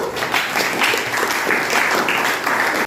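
Students in a classroom applauding together: a dense, steady burst of many hands clapping at close range for about three seconds, ending abruptly.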